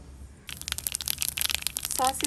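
Mustard seeds pop and splutter in hot coconut oil, a rapid crackling sizzle that starts suddenly and continues busily, with a brief voice near the end.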